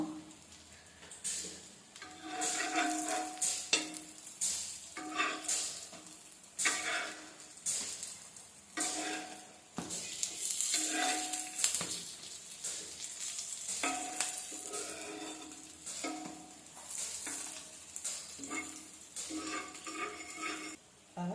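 Curry leaves and brinjal sizzle and fry in a pan for a kathirikai varuval, a loud crackling hiss broken by repeated stirring and scraping strokes in an uneven rhythm.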